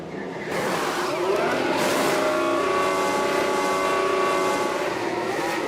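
Race car engine in the F1 Manager 24 video game at Suzuka, a loud, sustained high-pitched whine that cuts in after a short quiet start and holds steady with rising harmonic tones, no talking.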